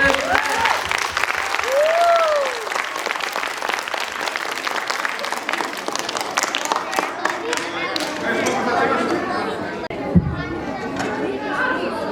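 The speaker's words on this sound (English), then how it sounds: "Big round of applause." Applause from a crowd at a school event, sustained clapping mixed with chatter and calls, gradually thinning toward the end as voices take over.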